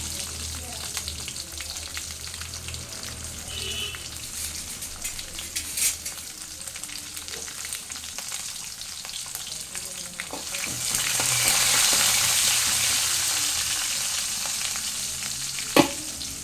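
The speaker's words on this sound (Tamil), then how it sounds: "ஒரு பத்து சின்ன வெங்காயம் ஒரு ஆறு பல் பூண்டு இதில் விட்டு வதக்கி விடணும்" Small shallots and garlic cloves fry in oil with popped cumin and mustard seeds for a Tamil kara kuzhambu, a dense continuous sizzle with occasional stirring clinks that swells louder partway through.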